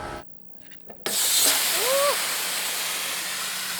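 Gas escapes in a loud, steady broadband hiss from a leaking boat condenser aboard a sailboat, starting abruptly and continuing strongly to the end, with a brief whistling tone partway through.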